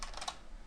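A brief, quiet burst of typing on a computer keyboard gives a few quick soft key clicks close by, with nothing else around.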